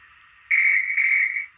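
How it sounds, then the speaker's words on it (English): A guard's whistle from a TTS sound decoder in a Hornby Firth of Clyde model locomotive: a faint hiss, then one shrill, steady whistle blast lasting about a second with a slight break in the middle, close and clear. "Guard's whistle,"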